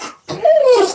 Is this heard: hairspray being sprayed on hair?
no